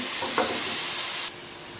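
Grated pointed gourd frying in oil with cardamom, cloves, cinnamon and bay leaf, a loud close sizzle with brief stirring scrapes that drops sharply in intensity partway through.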